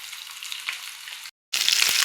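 Pieces of katla fish fry in oil with a close, steady hiss and crackle. The sizzle drops out briefly and then comes back louder.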